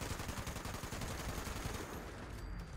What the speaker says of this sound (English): I'm going to get a VAT shot off